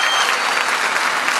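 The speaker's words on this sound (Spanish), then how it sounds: "un aplauso bien fuerte." Loud, dense applause from a crowd at a political speech in an industrial park, steady and continuous throughout without speech on top.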